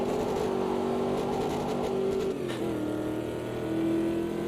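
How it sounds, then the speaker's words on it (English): A historic touring race car in a sim racing game holds a steady buzzing engine drone at a fixed pitch on the rev limiter, dips briefly midway, then returns to a flat sustained whine, close and continuous. "On the rev limiter"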